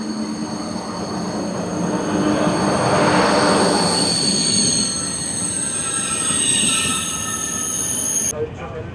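A TGV Inouï high-speed train rolls along with a steady rumble and high squealing wheel tones, swelling and fading in loudness, heard from on board, ending with a sharp drop.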